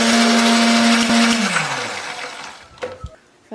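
A blender grinds candlenut, garlic, shallot and turmeric with a splash of water, a loud steady whir that starts high, then drops in pitch and fades as the motor winds down, ending in a few soft knocks.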